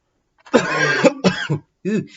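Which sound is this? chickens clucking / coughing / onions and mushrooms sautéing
coughing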